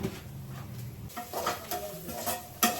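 Onions fry in a pan with a little chopped green chili and get stirred, a steady sizzle broken by scraping and clinking of the utensil against the pan, close by and with no voices.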